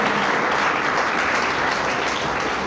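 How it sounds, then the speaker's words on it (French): A church congregation claps together in sustained, dense applause that fills the space steadily from start to finish, with no voices rising above it. "Est-ce que vous pouvez acclamer pour vous-même,"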